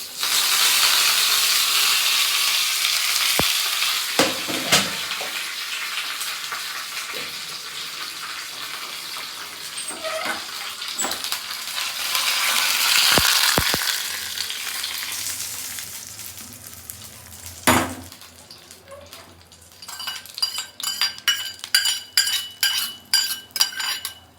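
Mustard seeds and curry leaves fry in hot oil, a loud dense sizzle that slowly fades, broken by sharp utensil knocks, then rapid crackling pops as the seeds splutter toward the end.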